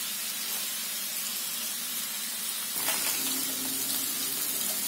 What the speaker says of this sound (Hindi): भून लेंगे हम इसे सारी चीजों के साथ ही इसे भूनेंगे।